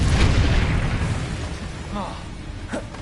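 A fiery Incendio spell cast in a Hogwarts wizarding video game, a loud burst and roar that fades into a rushing crackle, with voices faintly underneath.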